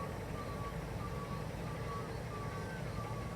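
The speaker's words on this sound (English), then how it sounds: "We've been subjected to a lot of noise" A road train truck unloading at a business, its repeated reversing beeps chirping steadily over a constant low engine rumble, heard from a moderate distance with no one talking.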